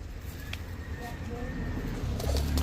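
Chandilal pigeons coo low and faintly beneath a steady background hum, with someone talking over them throughout and a thump near the end.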